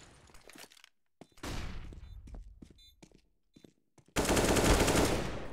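Bursts of rapid gunfire in the game Counter-Strike: Global Offensive crackle loudly in short volleys with gaps between, ending in a sustained roaring blast of noise.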